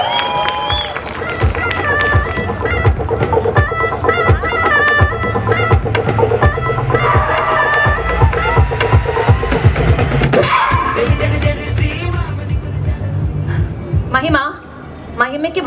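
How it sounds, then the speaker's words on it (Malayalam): A live audience at a film promotion event in Dubai claps and cheers loudly for Mahima Nambiar, sustained applause with shouts mixed in, fading near the end, with voices heard over it. "നല്ലൊരു കൈയടി"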